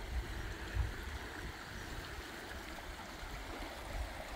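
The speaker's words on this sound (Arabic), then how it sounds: "كيف اندفاع الماء" Water rushes steadily at the Blue Eye spring nature reserve in Albania, a loud, constant broadband roar with a few low thumps of turbulence and no voices.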